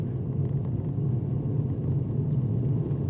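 Steady low road rumble inside a moving car, a constant droning hum that holds even and unbroken throughout, with no talking.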